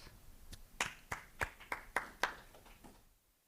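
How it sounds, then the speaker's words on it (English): A small audience at a smart aquaculture conference session gives a short round of applause welcoming a speaker, heard as about eight separate, fairly close claps that fade into silence. "please welcome Dr. Jesper Heldbo with a round of applause."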